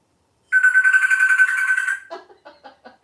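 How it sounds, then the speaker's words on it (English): A telephone ringing with a loud electronic warble that holds steady for about one and a half seconds, then breaks into a series of shorter, quieter chirps. "Answer the phone."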